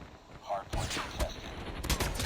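A deployed turret fires in the mobile shooter Call of Duty Mobile, giving loud, close bursts of gunfire, with a sharp volley near the start and several more cracks after it, mixed with other game noise.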